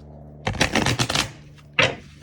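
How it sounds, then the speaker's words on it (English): Tarot cards shuffled by hand in a quick riffle, a dense burst of crisp slapping and flicking followed by a second short flurry, close and clear with no talking. "Let's give this a good shuffle and see what's going to happen and come out."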